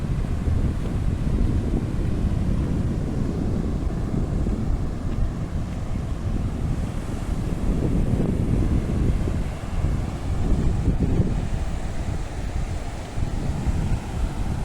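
Strong wind buffets the microphone at Madban beach while surf washes in beneath it, a steady loud roar with swelling gusts and no voices throughout.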